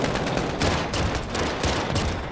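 Loud, continuous automatic gunfire in a co-op mission of a shooter video game, rapid overlapping bursts that run without a break.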